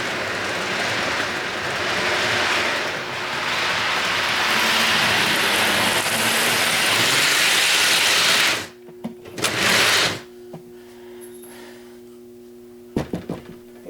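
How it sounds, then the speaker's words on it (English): A steady whirring, clattering rumble of a small toy train running along track, continuous for several seconds before cutting off, followed by a few clicks. "I'm using an amp just to get the train to go"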